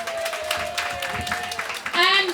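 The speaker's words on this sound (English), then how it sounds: "Clap" Audience clapping at a school Parents' Day event, steady applause running beneath a speaker's voice that carries over it, a brief louder tonal sound at the end.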